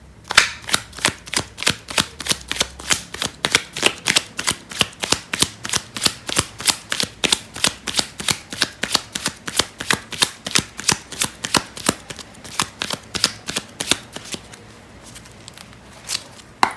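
A deck of tarot cards is shuffled in a fast, steady run of crisp riffling snaps, close and loud, continuing for the full stretch with a brief looser flurry near the end and no talking.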